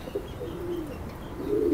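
A pigeon coos softly nearby in a few low, throaty murmurs, the last one fuller and longer, over a quiet background.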